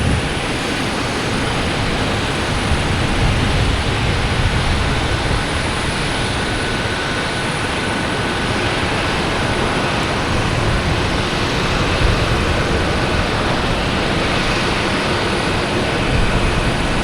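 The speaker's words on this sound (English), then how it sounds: "we have a JetBlue coming in from Dallas-Fort Worth on A220" A JetBlue Airbus A220 arrives at Boston Logan Airport from Dallas-Fort Worth, producing a loud, steady, broadband roar that holds at an even level throughout with no voices.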